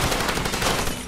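Rapid burst of MP5 submachine gun fire in the Far Cry 2 video game, a dense, loud rattle of shots packed into about a second.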